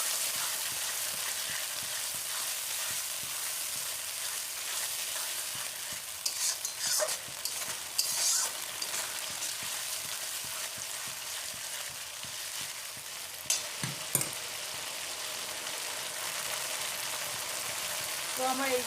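Spices frying and being stirred in a pan for Bengali chicken kosha, a steady close sizzle with intermittent scraping strokes of a spoon throughout.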